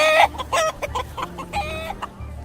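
Chickens at an open-air market in New France cluck and squawk in repeated close bursts, with one sharper hen call at the start and steady low background noise beneath, no talk.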